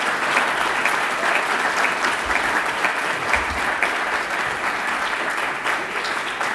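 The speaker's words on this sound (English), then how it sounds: "give a round of applause to our pianist" Steady, sustained audience applause for a pianist at an academic year inauguration ceremony, an even wash of many hands clapping at moderate distance throughout, with no voices standing out.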